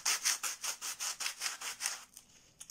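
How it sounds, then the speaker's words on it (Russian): Fine-grit sandpaper rubbed back and forth along the edges of a small handmade box, about ten steady rhythmic strokes close up, then slowing and fading near the end, with no talking. "Берем шкурку и выравниваем края."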